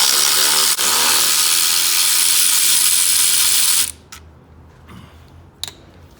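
A hand ratchet works Torx bolts on a Mercedes ML intake manifold, giving several seconds of steady close clicking that ends abruptly, followed by a few scattered metallic taps.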